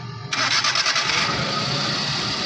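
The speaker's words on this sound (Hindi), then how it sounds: "ये हमारी गाड़ी स्टार्ट होगी" Starter whirrs briefly on a Mazda Scrum 660cc, then the small engine catches and settles into a loud, steady idle, heard up close.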